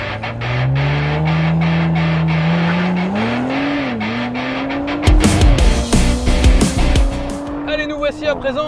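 An Audi RS4 Avant (2022, Competition pack) laps the Ascari circuit, its engine climbing loudly through the gears before bursts of tyre squeal and rapid shifts, with a voice talking over the drive.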